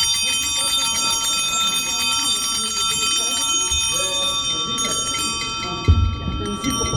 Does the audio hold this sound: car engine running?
no